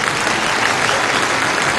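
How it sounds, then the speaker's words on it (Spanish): An audience gives a loud, sustained round of applause in honor of the late maestro Juan Formell of Los Van Van, dense clapping filling the room steadily without a break. "démosle un fuerte aplauso al maestro Juan Formel"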